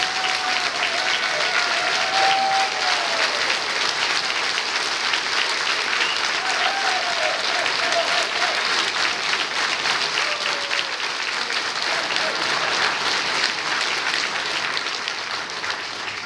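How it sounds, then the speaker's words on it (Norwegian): A large audience gives long, sustained applause after a choir performance at a company anniversary party, a dense, even roar of clapping that holds steady throughout with a few faint voices underneath. "vi må klappe lenger altså"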